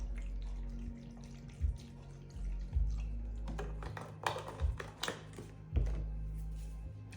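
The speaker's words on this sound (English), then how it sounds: "we're going to add a little bit more of the vegetable broth" Vegetable broth poured into a pot of asparagus soup, a gentle liquid splashing and trickling with a few louder knocks and glugs, close and moderately quiet over a low kitchen hum.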